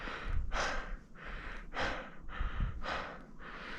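Heavy, rhythmic breathing from someone hiking uphill in snow in winter at Creux du Van, with loud close inhales and exhales repeating roughly every second.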